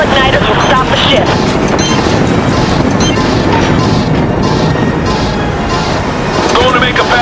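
Rocket strikes slamming into a starship's warp coil in the PS3 shooter Killzone 3, a dense, continuous barrage of loud crashing booms and explosive rumble with voices speaking over it.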